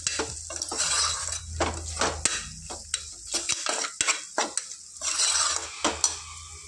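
Ginger garlic paste and onions fry in a pan while a spoon stirs, producing repeated close scraping and clinking strokes over a light sizzle.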